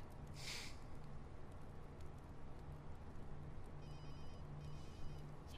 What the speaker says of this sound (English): You gonna pick the phone up?